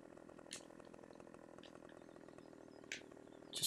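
A chainsaw in the game Farming Simulator 2017 runs with a faint, continuous buzzing engine drone that holds steady, with a few brief hissing bursts on top.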